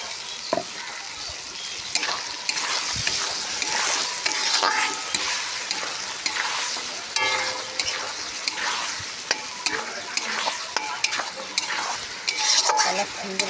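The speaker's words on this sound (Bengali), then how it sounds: "কালার সুন্দর এসে গেছে, হালকা ভাজি করতেছি।" Ground spice paste thinned with a little water fries in a pan, giving a continuous crackling sizzle broken by regular scraping and stirring strokes of a spoon against the pan.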